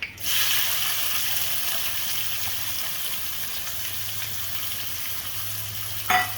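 Onions frying with roasted cumin in a pan on a stove, a steady, even sizzle with a brief clink near the end and no voices.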